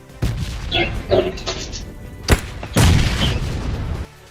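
A grenade blast in a shooting video game: several loud booming impacts and a sharp crack, then a heavy sustained rumble that cuts off abruptly, no talk.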